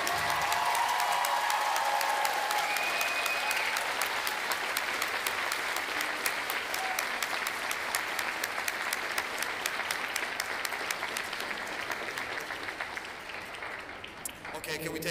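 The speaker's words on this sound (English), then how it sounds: "One more time, a round of applause for the class of 2022." Sustained applause from a large audience at a graduation ceremony for the class of 2022, steady and dense for the whole stretch with a little crowd noise mixed in, fading slightly toward the end.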